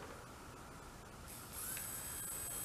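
A small HO scale model locomotive motor and gearbox running, a faint mechanical whir with fine ratcheting gear ticks that steps up to a higher, brighter whine partway through, close and alone.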